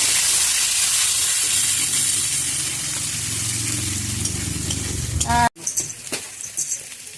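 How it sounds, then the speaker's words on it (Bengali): Boiled potatoes frying in oil with turmeric and salt, a loud close hissing sizzle that holds steady, then cuts out abruptly near the end, followed by brief clattering handling sounds. "আলুটাও হালকা একটু ভেজে নেবো"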